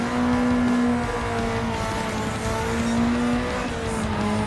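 A race car in Gran Turismo 7 driving at speed: loud, steady engine drone with sustained tonal whine and faint tire noise, continuous and close throughout.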